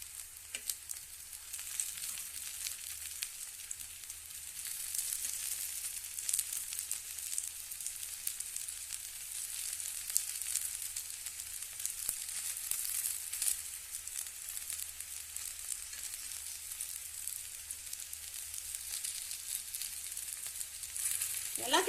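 Raw plantain slices frying in oil on a low flame, a steady soft sizzle with hissing crackle throughout, fairly quiet and without talk.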